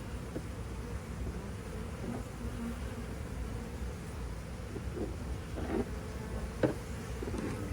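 A honeybee swarm that has sat in a bucket too long drones with a dense, continuous buzz, close and steady, with a few soft knocks and bumps over it and no talking.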